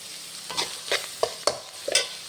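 Shallots and curry leaves crackle in hot tempering oil in a pan, meant for a meat dish. About six sharp, close spurts of sizzling arrive in quick succession, with no voices.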